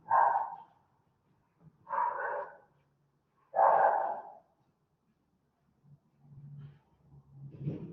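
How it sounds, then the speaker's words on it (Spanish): Dogs bark three times in separate bursts at moderate distance, with faint whimpering or muffled yips trailing at the end; no talking. "Salieron los perritos."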